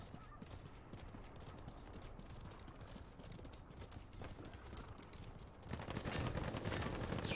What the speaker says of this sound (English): We got firing up on this hill.